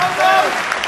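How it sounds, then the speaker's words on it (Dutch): Applause from a crowd at a gala, a dense burst of clapping close and loud, with a voice faintly audible beneath it. "wederom een applaus"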